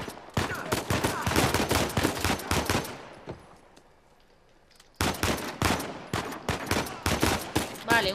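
Rapid gunfire from the video game Uncharted 4 crackles in dense bursts, drops to a quiet lull, then resumes just as fast and loud in sustained volleys.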